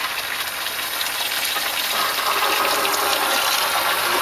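Water gushes steadily from RV plumbing while the lines are flushed after dewinterizing, a loud continuous rushing hiss with no talk.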